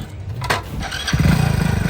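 A motorcycle engine cranks and catches, then settles into a close, steady pulsing idle.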